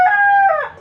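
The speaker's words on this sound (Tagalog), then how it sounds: "may mga manok" A chicken lets out a single loud, close crowing call with a clear tonal pitch that bends upward and then fades.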